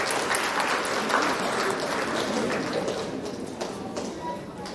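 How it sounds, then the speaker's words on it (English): Audience applause fills the hall at an Indonesian students' convention opening ceremony in Chicago, a dense, steady wash of clapping from many hands, sustained throughout and tapering slightly toward the end. "Please give me a round of applause for every one of them."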